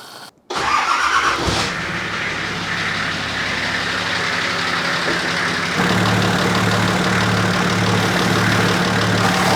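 An old Nissan GQ Patrol diesel engine cranks and catches after a brief silence, then runs on with a loud, steady rattling idle that steps up in pitch and load partway through.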